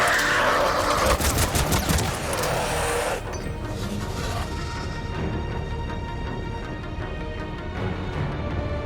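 Gunfire from a firefight in the video game Mass Effect Legendary Edition, with dense bursts of shots over the first three seconds, then sustained battle noise and a tonal hum that continues at a steady loud level.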